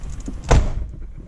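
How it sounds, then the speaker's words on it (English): An Eagle Summit car door is opened, giving a single close, solid thunk of the latch releasing midway through an otherwise quiet moment. "so then we'll key off and open the door"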